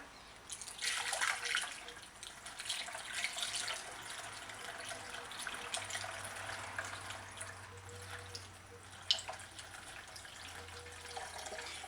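Steady warm water pours from a tap into a container, a continuous hissing splash with a low background hum, no talking.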